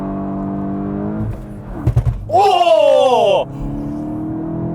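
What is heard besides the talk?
2022 VW GTI doing a burnout with wheel hop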